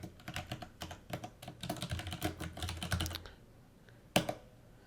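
Rapid bursts of keystrokes on a computer keyboard as a name is entered into a form, irregular clusters of clicks close by, ending with a pause and one firm final key press.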